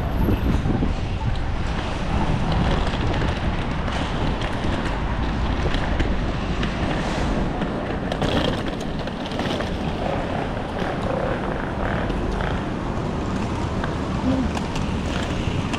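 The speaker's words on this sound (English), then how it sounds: "Does it feel kind of windy out here as well?" Strong cold wind roars continuously across the microphone outdoors at Oakland airport, a loud, buffeting rush with no letup.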